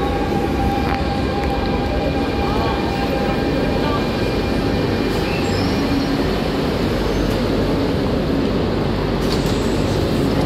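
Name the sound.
Paris RER A train arriving at station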